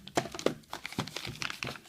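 A plastic bag from a Kizer knife box crinkles and rustles close up during unboxing, in a series of quick uneven crackling handling noises with no talking.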